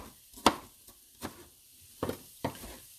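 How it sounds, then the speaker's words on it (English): A knife chops a red pepper finely on a cutting board, giving a handful of sharp, irregular knocks spaced apart, close and fairly quiet. "Chopping it up, again, nice and fine."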